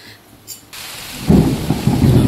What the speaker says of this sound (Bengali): মেঘ ডাকছে।